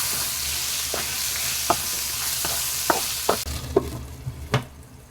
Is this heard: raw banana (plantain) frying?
yes